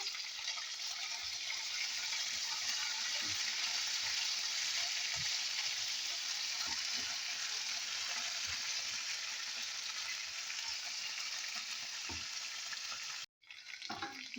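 Bagoong alamang shrimp paste cooks with vinegar in a pan, giving a loud, continuous sizzle with small pops and scrapes throughout, briefly dropping out near the end before resuming.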